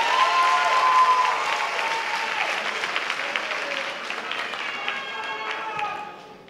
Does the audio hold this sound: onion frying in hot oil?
no